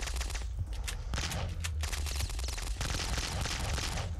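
Rapid bursts of gunfire from a Flash shooter game, including shotgun fire, crackle in dense repeated volleys throughout, loud and close.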